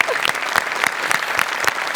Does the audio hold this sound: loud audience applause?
yes